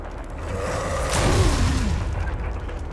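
A grenade launcher in the Resident Evil 1 Remake fires with a deep, rumbling boom that swells and lingers as a low roar under a layer of game ambience, with no talk over it.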